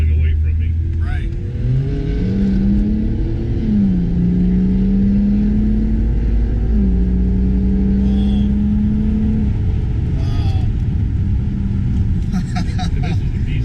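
Ford Edge Sport drag racing another car, heard from inside: a loud, continuous engine drone climbs and shifts pitch through gear changes over about ten seconds, with road rumble underneath and brief voices.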